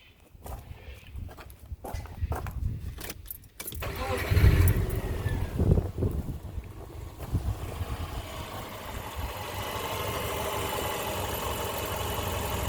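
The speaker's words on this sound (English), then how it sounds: "I'll give you a little listen to the motor." A 2005 Subaru Forester under rebuild cranks and fires up, then settles into a steady idle, heard fairly close with some handling noises before the start.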